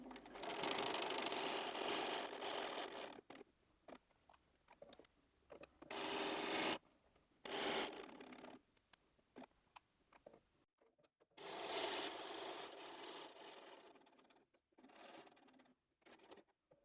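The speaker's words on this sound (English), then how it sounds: "doing a little lock-in stitch backwards and forwards just to reinforce the top of the pocket" A sewing machine runs a backwards-and-forwards lock-in stitch to reinforce the top of a fabric pocket on a heart cushion, with loud whirring bursts of stitching broken by pauses and light handling noises.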